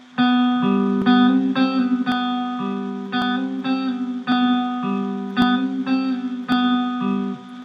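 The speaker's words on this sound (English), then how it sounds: "So hammer on, pick, pull off, and pick again." A clean electric guitar plays a quick repeating riff of plucked notes with smooth hammer-on and pull-off slurs, about a dozen phrases in a steady rhythm, close and clear.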